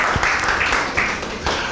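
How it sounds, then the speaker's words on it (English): Short burst of audience applause at a university speech and debate society event, dense clapping filling the room for under two seconds. "we should all give ourselves a big round of applause to start with"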